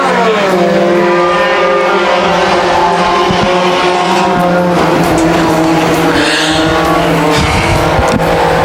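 Thunder Stock cars racing at Can-Am after the green flag, a loud, dense roar of many engines at full throttle with layered rising and falling pitches from cars close by.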